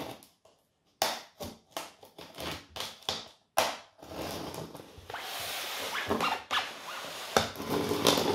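Packaging around a 1:18 scale CMF Cadillac Presidential State Car model being cut with a hand tool, heard as a series of close crisp snips and crunches followed by longer tearing and rustling of plastic and cardboard.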